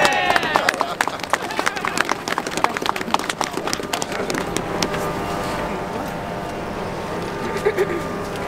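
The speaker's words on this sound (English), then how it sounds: "I want you to honor with a thunderous applause Lady Mavis Thompson" An audience at a Martin Luther King Jr. holiday celebration in St. Louis breaks into applause, a dense, lively patter of many hands that starts sharp and thick, then settles into a steadier wash, with a voice speaking over it.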